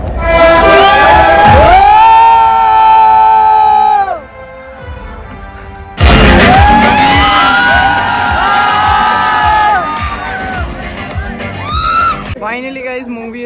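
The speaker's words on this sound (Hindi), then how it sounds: "ये लोग चिल्ला रहे हैं तो ये चीज खराब लग रही है मेरे को" Cinema audience shouting and cheering during a screening of the film Pathaan in a theater hall, loud whoops and crowd noise layered over booming, swelling film music, with a brief drop midway before the din resumes.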